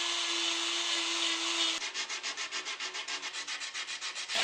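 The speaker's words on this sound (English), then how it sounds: "I just sanded it flat on the bottom" A walnut wood sculpture has its bottom sanded flat, first a continuous hissing rasp, then a quick run of rhythmic back-and-forth rubbing strokes, close and even, with no voices.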